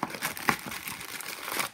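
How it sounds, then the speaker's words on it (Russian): Foil packs of KHL hockey trading cards from the 2020-2021 SeReal collection being torn open, close-up crinkling and tearing in quick irregular bursts. "Продолжаем вскрывать коллекцию 13-го сезона КХЛ."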